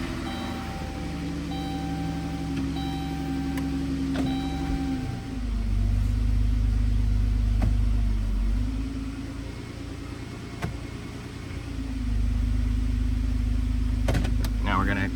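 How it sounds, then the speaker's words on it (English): A car with a GM 62TE transmission idles steadily after start-up, its low engine hum shifting in pitch around five seconds and again near twelve as it is put through the gears, with brief clicks over the drone. "Now I'm going to start it up, put it through the gears, and then we're going to check it while it's idling."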